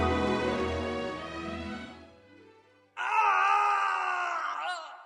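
A long, drawn-out groaning cry falls away into near silence, then a second, higher scream rises sharply and holds before breaking off, the terrible scream from Dr. Roylott's room in an audio drama.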